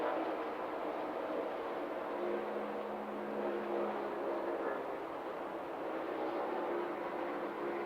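NASCAR race cars running at the 1992 Champion Spark Plug 500 at Pocono, a steady loud engine roar that holds across the whole stretch without any break.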